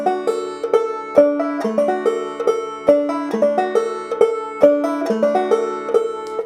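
Banjo playing a looped Galax lick, bright plucked arpeggios with the fifth string fanned, repeating in a steady, close rhythm with no voices.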